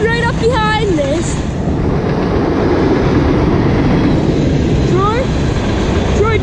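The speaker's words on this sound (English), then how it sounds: "I don't know why this train had a speed restriction, but it did." A CSX freight train, with an old SD40-2 trailing, rolls past close and loud under a speed restriction, a dense steady rumble of wheels on rails with squealing flange tones throughout.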